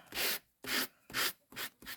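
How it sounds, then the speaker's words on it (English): A sanding block glides softly across an embossed paper design on a tabletop, four or five even rubbing strokes in a steady back-and-forth rhythm, close and quiet with brief pauses between passes. "all you're going to do is just softly glide your sandpaper surface across that design"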